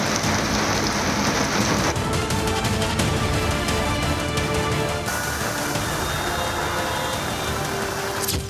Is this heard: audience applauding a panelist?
no